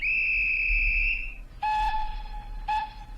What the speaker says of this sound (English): Where's my whistle gone?